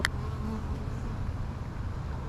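Honeybees drone in a steady, close, continuous buzz at an open beehive during an inspection.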